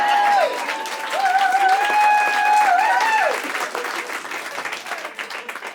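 Audience applause at a stand-up comedy show, a warm burst of clapping and cheering that fades, with a sustained musical tone running alongside.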